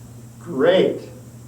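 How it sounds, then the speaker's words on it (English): A deep exhalation during a yoga breathing exercise, a single soft breath out swelling and fading over about a second, close and breathy. "Take a deep breath in the chest now. Raise the shoulders. And breathe out."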